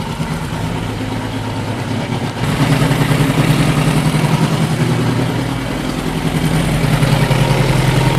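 A Suzuki GS1000 motorcycle engine idles steadily up close during a carburetor sync, a continuous low rumbling throb that grows slightly louder and fuller after a short dip partway through.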